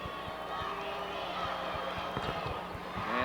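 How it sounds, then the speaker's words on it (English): The Prairie Central crowd fills a high school basketball gym with a steady roar at a 2001 Class A quarterfinal, and sneakers squeak and a ball bounces rhythmically underneath. "That's the crowd from Prairie Central you got to glance at."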